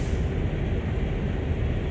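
A train in Train Sim World slowing under automatic brake, a steady low rumble of wheels and running gear with a faint high hiss, continuous and even throughout.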